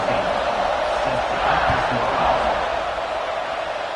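Stadium crowd roaring at kickoff in NCAA College Football 25, a dense, steady wall of cheering and noise with a commentator's voice faintly over it.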